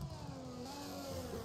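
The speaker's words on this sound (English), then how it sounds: "Oh, that safety car engine." A safety car engine droning and revving steadily during a Monza Grand Prix sim race, fairly loud and continuous, with no talking.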